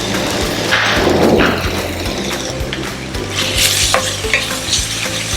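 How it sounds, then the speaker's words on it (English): Grated carrot with salt and garam masala is stirred and fried in a pan for carrot rice, giving a close sizzle with scraping spoon strokes and light knocks against the pan, recurring through the clip without talk. "mix it well and fry for a minute"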